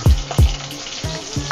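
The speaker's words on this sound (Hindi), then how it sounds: "मैंने 1-2 मिनट फ्राई कर किया है ये ज़ीरा और ग्रीन मिर्ची को, हरा मिर्ची को" Cumin seeds and slit green chillies frying in oil for sorrel leaf chutney, with a loud steady sizzle broken by a few sharp bursts and spatters, close and without talk.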